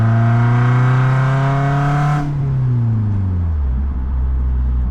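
A BMW car engine drones steadily while driving, a loud close hum that drops in pitch midway as the car eases off or changes gear, then settles into a lower, quieter note.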